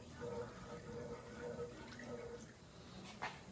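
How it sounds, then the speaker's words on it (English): A pot of water with dill weed coming to a boil gives a soft, steady bubbling and watery hiss, low in level with a brief splash toward the end. "Now you can see it's starting to boil, and that's what we want."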